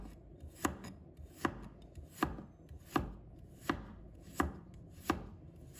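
Knife slicing fresh ginger on a cutting board, seven crisp evenly spaced chops at a slow steady pace, close and clear with nothing else heard.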